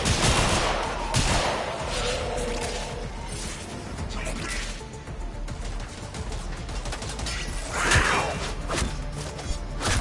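Railjack ship weapons firing in the Warframe video game, continuous rapid gunfire and crashing impacts layered into a dense barrage, loud and close for the whole stretch with no talk.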